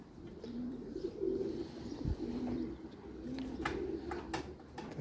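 Homing pigeons at their loft after a roughly 470 km race give soft, repeated low coos, fairly faint against a quiet outdoor background with a few light clicks and rustles.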